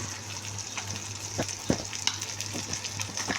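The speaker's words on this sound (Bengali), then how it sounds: "মশমশা করে ভাজি করছি, একেবারে মনে করেন বাদামি কালার" Koi fish frying crisp and brown in hot oil gives a steady close sizzle, with a few louder crackles and pops scattered through it and no speech.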